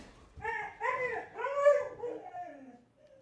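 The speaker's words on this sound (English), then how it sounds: "That's my dog." A dog whimpers and whines close by in a few drawn-out, wavering high-pitched cries that rise and fall before trailing off.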